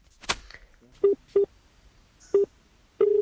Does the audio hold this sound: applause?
no